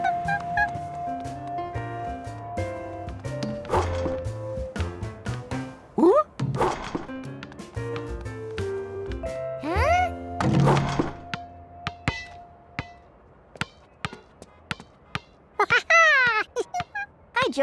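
In a Curious George cartoon, a basketball is bounced and shot at a hoop. Scattered hollow thunks and thumps rise over light background music, with a few louder bangs and short bursts in between.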